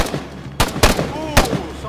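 Sharp gunshots in an Arma 3 military simulation firefight, three loud cracks spaced irregularly over a steady low rumble, fairly close.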